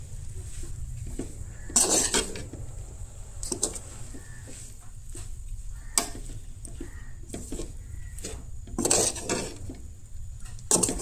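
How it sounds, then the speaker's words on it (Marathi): A spoon repeatedly scrapes and clanks in a metal pan as a mixture is stirred and roasted for chicken gravy, irregular strokes with a couple of louder bursts over a low background hum, no talking. "अशी परतून परतून ती भाजून घेया।"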